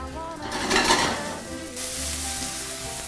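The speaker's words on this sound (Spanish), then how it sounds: "ya que tenemos los chiles y la cebolla cocidos, vamos a agregarle nuestra crema ya preparada." Cream poured into a pan of cooked chiles and onion sizzles steadily, with a brief louder burst of frying and faint stirring scrapes as it heats.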